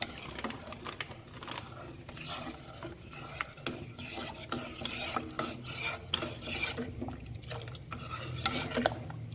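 Spoon stirring kheer mix in a cooking pot, a steady run of scraping and clinking strokes against the metal with soft bubbling underneath, close and moderately loud with no talking.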